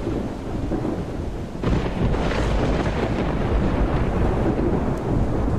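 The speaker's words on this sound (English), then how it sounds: "I'm surprised I can hear anything over this thunder." A thunderstorm in the video game Project Zomboid rumbles steadily with heavy rain and a deep roll of thunder swelling midway, dense and loud throughout, with no voices.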